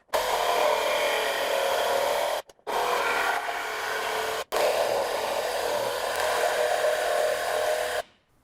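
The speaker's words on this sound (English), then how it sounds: "So I'm going to cut these notches with a jigsaw." A jigsaw cuts notches into wooden blanks in three steady, close, buzzing runs of rasping cutting noise. Two short pauses separate the runs before the saw stops and the sound drops away.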